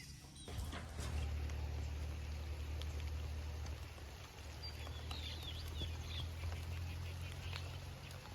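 Rain falls at a rural home near mountains, a steady patter spread evenly through the clip under a low constant hum, with no voices.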